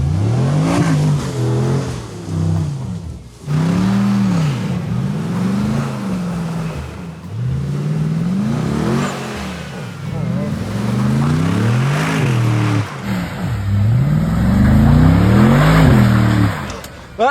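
Mercedes G63 Brabus revving hard on off-road 4x4 terrain while its tyres spin, the engine rising and falling in repeated loud surges, with people talking over the noise.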